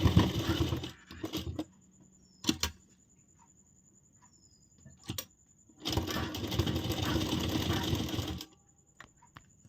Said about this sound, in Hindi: जो ये वाला फोल्ड हुआ है इसी के चारों तरफ अब हम सिलाई लगाएंगे